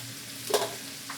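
Rice noodles (bihon) tossed into a hot oiled pan for pancit give a brief sizzling burst with a stirring scrape, over a low steady frying hiss and no talking.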